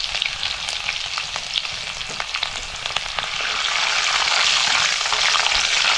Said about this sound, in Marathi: बघा मोहरी अशी मस्त तडतडायला पाहिजे.